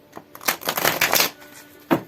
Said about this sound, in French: Ce jeu de cartes, je le mélange absolument pas comme les autres cartes que je fais